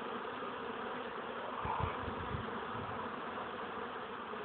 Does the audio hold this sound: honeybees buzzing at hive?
yes